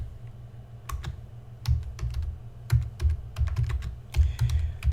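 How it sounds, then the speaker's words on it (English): Typing on a computer keyboard while searching for an Amazon Prime icon, a steady run of sharp, close key clicks in irregular bursts, with no talking. "So just type in Amazon Prime icon"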